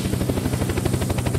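A Hummingbird helicopter flies in Unturned near an oil rig, its rotor giving a loud, close, steady chopping pulse over a continuous engine drone.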